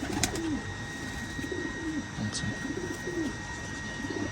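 Ferozpuri pigeons at a Bangladeshi loft coo in a steady series of low, rolling calls, one roughly every half second, close by over a constant background hum.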